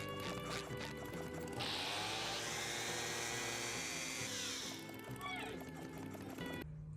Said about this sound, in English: Somebody is still using a gas auger out here, so hey, gets the holes cut